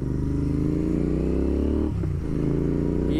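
A Continental GT650 motorcycle fitted with a Red Rooster Performance exhaust gives a loud, bassy, throbbing idle close by, with a brief dip in the rumble partway through.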